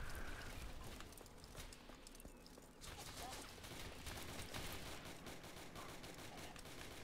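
Mauser pistol gunfire in a Roblox match, a steady stream of dense, crackling shots running the whole stretch at moderate level, with a brief quieter gap before the firing thickens again.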